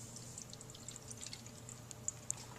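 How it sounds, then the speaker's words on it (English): Water poured into a bowl of powder to make fake snow, a faint gentle trickle with a couple of small drips near the end, quiet and close. "then you're going to add water"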